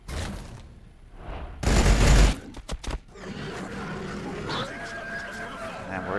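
Bolt guns fire in a Warhammer 40,000: Battlesector battle, with a dense burst of gunfire and a few sharp cracks followed by busy combat noise under the game's sound.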